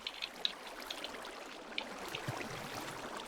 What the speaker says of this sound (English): Flowing water. I hate that sound.